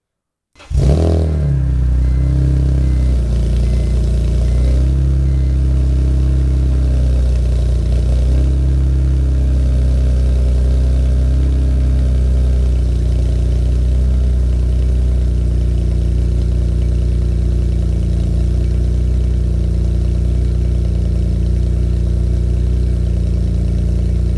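Porsche GT3 RS exhaust: the engine catches with a sharp blip, then settles into a loud, steady, rumbling idle held close for over twenty seconds, with a slight rise and fall early on and no talking.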